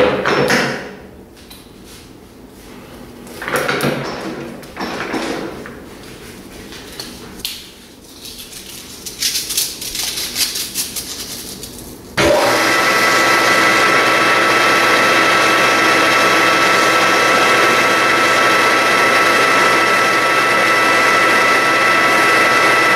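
A lathe spins a drive shaft at about 600 RPM with sandpaper wrapped against it, giving a steady, loud whirring hiss that kicks in abruptly and holds, after earlier intermittent handling noises.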